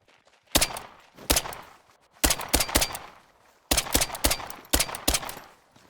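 Pistol shots fired at a turkey in the hunting game theHunter: Call of the Wild, several sharp loud cracks in uneven clusters, each with a short rumbling tail, no talk.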